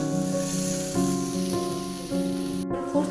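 A hilsa fish curry with turmeric and green chillies boils in a pan, giving a close, steady sizzling and bubbling hiss with a faint low hum beneath, alone and without talk.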